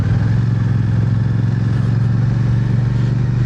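A Royal Enfield motorcycle engine drones steadily and loud while riding, with a constant low rumble and no talk.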